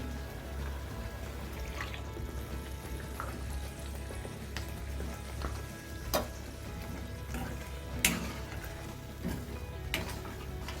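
Tomato masala for shahi paneer sizzles in hot oil in a pan, a steady low frying hiss with occasional faint pops and clicks throughout, no voices.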